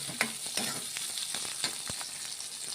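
Onions sautéing in a pan for an ivy gourd stir-fry, a steady close sizzle broken by a few sharp scrapes and stirs of a spatula, with no voices.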